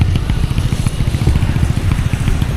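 A small Smash motorcycle engine runs close by, a loud, rapid, sputtering putter that stays steady throughout.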